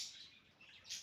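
Small birds chirp faintly inside a greenhouse, a few soft, brief tweets against a quiet background, with a slightly brighter burst at the end.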